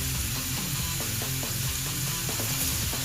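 Garlic, a whole tablespoon, hits a hot pan and crackles with a steady, close frying sizzle, with faint stirring and scraping in the oil running throughout.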